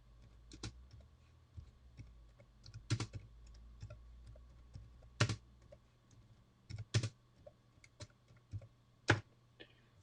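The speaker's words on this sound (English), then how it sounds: "Oh, what am I typing?" Quiet, close typing on a computer keyboard: scattered clicky keystrokes in short irregular bursts, with a few sharper louder taps standing out over a faint background hum.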